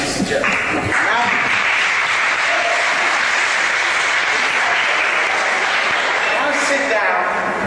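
An audience bursts into loud, sustained applause, a dense continuous roar of clapping that holds steady at full strength for over seven seconds before easing slightly near the end.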